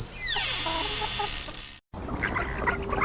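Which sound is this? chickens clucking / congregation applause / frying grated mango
chickens clucking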